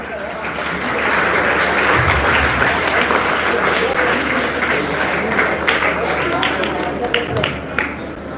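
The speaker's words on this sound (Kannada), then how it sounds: "ಎಲ್ಲ ಚಪ್ಪಾಳೆ ತಟ್ಟುವ ಮೂಲಕ" An audience at a Dharwad children's talent programme claps steadily for several seconds, a dense, loud ovation with a few scattered louder claps.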